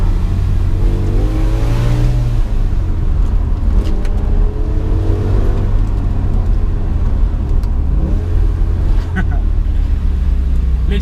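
A BMW M5 E60 V10 engine revs and accelerates close by, its rising and falling pitch sweeping repeatedly under a steady rumble, with people talking over it.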